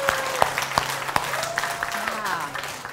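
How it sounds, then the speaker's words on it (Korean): Seminar audience in a hall breaks into steady applause, a dense wash of clapping with a few sharper claps standing out, while a voice carries on over it. "여러분 박수 쳐주시기 바랍니다."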